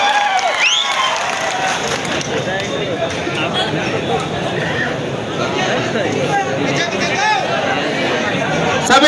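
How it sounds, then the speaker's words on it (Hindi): Large crowd at an outdoor community gathering applauding and cheering to welcome a speaker, a loud dense wash of claps and voices with shouts and chatter mixed in throughout. "इनके लिए जोरदार तालियों से स्वागत करें साथियों"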